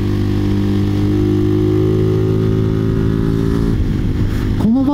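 A Mutt Motorcycles DRK engine idles with a steady, buzzy throb that stays close and loud. Its tone shifts near the end, and a quick rev rises and falls at the close.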